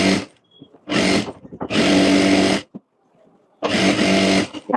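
A sewing machine stitches a co-ord set collar in several short whirring bursts of about a second each, close and fairly loud, separated by pauses of near silence.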